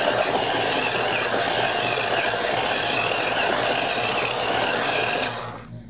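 Small electric motors of a remote-controlled skateboarding Mikey Teenage Mutant Ninja Turtles toy spinning, a loud, steady whirring buzz held for about five seconds before it winds down and stops.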